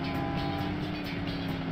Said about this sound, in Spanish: el de motor diésel ese de la Samba Bus en este juego